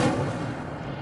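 An Incendio fire spell is cast in the Hogwarts Legacy video game, a short, loud whooshing burst of flame that starts sharply and sustains as a dense roar for about a second.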